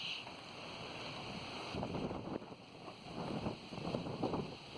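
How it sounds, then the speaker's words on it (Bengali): Strong wind buffets the microphone in continuous gusty rumbles, with surging bursts of broadband noise and no voices. "এখানে প্রচুর বাতাস, যে আমি উড়ে যাচ্ছি"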